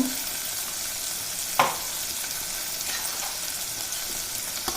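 Ground peanut paste for bottle gourd curry frying lightly in oil with a spoon of turmeric, a steady bright sizzle broken by one sharp utensil knock and faint stirring scrapes.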